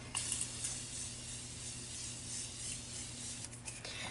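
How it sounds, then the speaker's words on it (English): Morphe Setting Mist spritzed onto a made-up face, a soft continuous airy hiss of fine spray running steadily for a few seconds under a low background hum. "I'm going to set everything into place with the Morphe Setting Mist"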